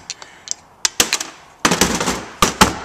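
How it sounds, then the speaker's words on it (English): A pump motor seal seat is tapped out with a series of sharp metallic knocks, irregular single and clustered hits, loud and close with no talk. "We're going to just tap this out."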